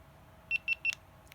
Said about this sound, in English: until it makes that beep beep beep noise, and now the camera is on